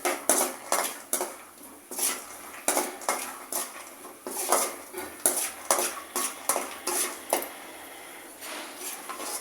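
Peanuts and tomato browning in a pan over a low flame, with a spatula scraping and clattering against the metal in quick rhythmic strokes and brief pauses, close and moderately loud.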